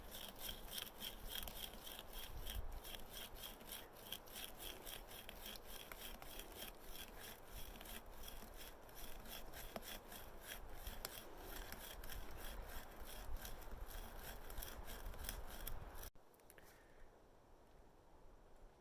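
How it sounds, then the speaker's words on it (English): Hand tools working a wood log outdoors in winter, a steady rasping, grinding scrape as a hand drill bores a vertical hole, continuous and faint for about sixteen seconds before stopping abruptly. "we got horizontal drilled as far as we can right up to the top of the handle here, and now we're going to go vertical"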